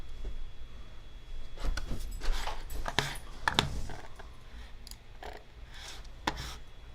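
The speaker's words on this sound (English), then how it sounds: "My dog's going crazy." A pet dog whimpers and pants in quick, uneven bursts close by, with soft rustling and scuffling mixed in, an agitated, excited run of breathy sounds and small whines lasting several seconds.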